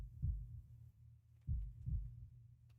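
A heartbeat sound effect in the Path to Nowhere video game thumps low and deep, paired double beats repeating slowly and steadily, alone in otherwise near silence.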